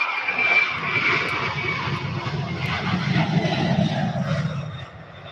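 UPS cargo plane rolling down the runway at Louisville airport, a steady loud roar of its engines with a broad rumble and a high whine.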